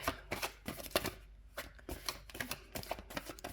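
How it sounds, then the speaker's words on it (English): Tarot cards being shuffled by hand, a steady run of crisp riffling and flicking card noises, close and clear, with no talking. "I'm just bad at shuffling"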